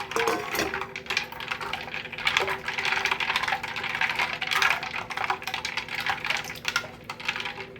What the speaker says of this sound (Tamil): ஐஸ் கட்டி போட்டுக்கலாம்.